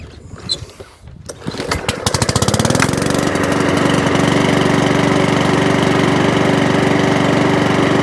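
A Mountfield 414 lawn mower's petrol engine starts with a few sputters, then settles into a loud, steady running drone close by.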